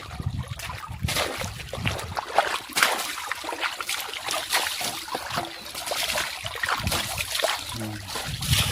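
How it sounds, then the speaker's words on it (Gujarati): Water splashes and trickles steadily over a motorbike being washed with water drawn from a lake beside a bridge. The splashing is close and continuous, with uneven bursts throughout. "તો હવે ધોઈ નાખશે બાઇક"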